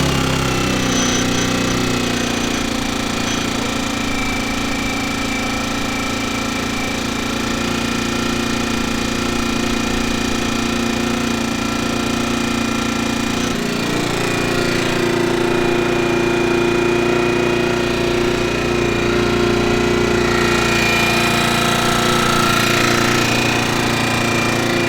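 A Sportsman 1000i portable generator engine drones steadily and loudly for the whole stretch, with a noticeable shift in its tone partway through as it keeps running.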